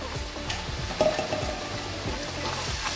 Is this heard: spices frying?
yes